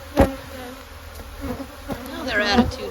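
Honeybees buzz around an opened hive in spring, a steady close hum with individual bees droning past the ear, plus a few sharp knocks and clatters of hive parts.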